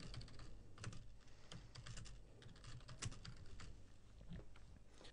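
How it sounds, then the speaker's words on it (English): Steady, brisk typing on a computer keyboard, with dense clicking keystrokes running the whole time at a moderate, close level, alone without any voices. "type the text that you want"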